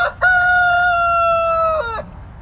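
A rooster crows once, loud and close, holding one long, steady, strained call for nearly two seconds before it drops off at the end.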